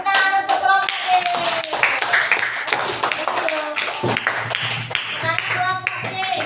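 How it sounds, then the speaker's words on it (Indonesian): Classroom applause for a student group, many hands clapping close and lively with children's voices mixed in. "tepuk tangan untuk kelompok C"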